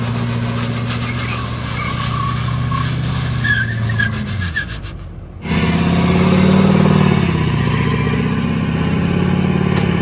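A Duramax Ripsaw tank dragging a Crown Vic and other cars, a loud continuous engine roar with grinding, scraping friction and tire skid noise, briefly dropping before surging back, no talking.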